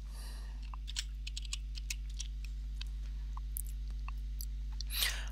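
A handful of soft, sparse keystrokes on a computer keyboard as a material name is typed into CAM software, faint and close over a steady low electrical hum, with no talking.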